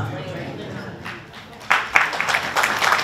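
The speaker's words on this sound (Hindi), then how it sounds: "आपने ताली पहली बजा दी है।" An audience breaks into applause halfway through, moderately loud claps swelling after a quieter opening where faint talk trails off.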